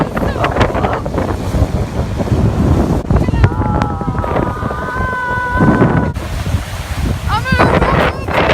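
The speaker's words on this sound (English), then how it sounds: "So windy!" Strong gusting wind roars against the microphone beside big crashing waves on Lake Superior, loud and continuous, with excited voices shouting over it.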